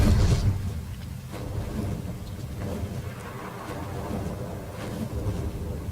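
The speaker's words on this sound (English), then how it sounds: "I hear storms, but I don't see any." A storm rolls through in the survival game Ark Survival Ascended, with low rumbling thunder and a wash of rain sustained throughout, fairly loud and with no talking.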